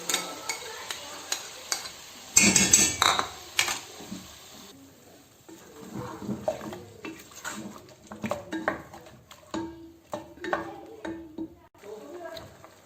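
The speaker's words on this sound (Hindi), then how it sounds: "अब दही के साथ हमने इसकी भुनाई करनी है।" Mutton and potato curry frying with a cup of yogurt over a very low flame, heard as a soft sizzle with spoon scrapes and clinks of the pot in irregular bursts, close and fairly quiet, with a louder clatter early on.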